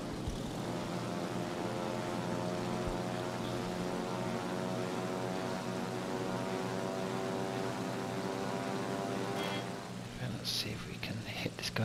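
Torpedo bomber planes in World of Warships fly past as a steady, loud propeller engine drone with a harmonic whine, lasting most of the stretch before fading into scattered game noises near the end.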